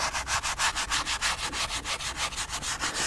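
Plastic car interior trim inside a C7 Corvette being hand-sanded, a steady run of about fifteen quick, rhythmic back-and-forth rubbing strokes, close and fairly quiet, with no talking.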